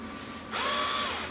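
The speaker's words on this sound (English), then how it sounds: "I think I'll use this 3/8 bit to drill a pilot" A power drill with a 3/8-inch bit bores a pilot hole while fitting retractable wheels to a welding table, starting abruptly after a quiet moment and whining steadily at close range for under a second with no talking.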